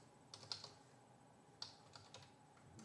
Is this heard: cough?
no